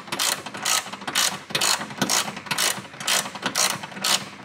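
A ratchet wrench clicks rapidly in close, rhythmic bursts while loosening the stock ground bolt on a Toyota Tacoma.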